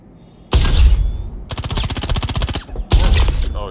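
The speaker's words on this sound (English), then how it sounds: "Oh, he's got a machine gun." Machine gun fire in the video game Star Citizen comes in three loud close bursts, the middle one a long rapid rattle of evenly spaced shots, with no speech.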